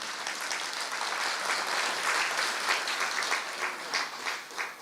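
A seated audience at a spiritual gathering in a meditation hall breaks into sustained applause, a dense, steady wash of many hands clapping at moderate distance that thins out toward the end.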